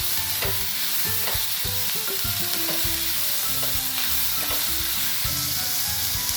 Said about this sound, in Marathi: कांदा परतून झाला की सिमला आणि टोमॅटो आपण घालू याच्यामध्ये आणि तेही परतून घेऊया